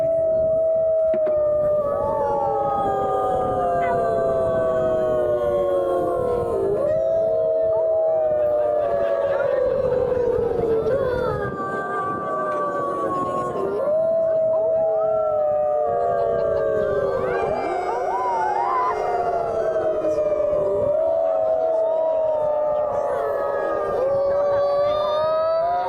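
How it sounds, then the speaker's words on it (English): A wolf howls back in reply to a played howl while a person kneels in the dirt, long wavering cries rising and falling continuously across the whole stretch, loud and close, several voices overlapping at times. "trying to get a wolf to howl back to me"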